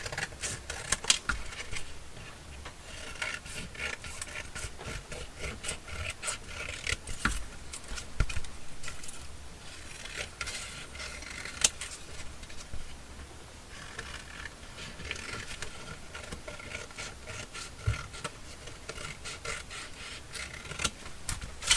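Scissors cutting around a paper shape in a crafting session, a steady soft rasping and rubbing of blades through paper, close and quiet, with small clicks and no talking.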